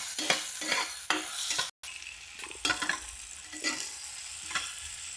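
Onion frying in oil in a pan for a moringa-leaf bhaji, crackling and sizzling under repeated scraping strokes of a stirring spoon, with a brief silent gap in the middle.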